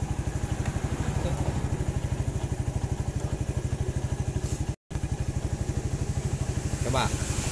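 A Yamaha Jupiter Z or Vega R motorcycle engine runs in a steady, fast-pulsing chug while the throttle is opened slightly, close and continuous, with brief clatter and voices nearby.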